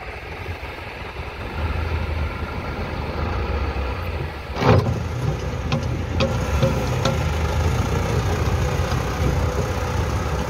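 A Massey Ferguson MF385 tractor fitted with a 72-cutter rotavator starts up and runs with a steady diesel drone, rising in level early on, then a sharp knock partway through, heard close and without talking.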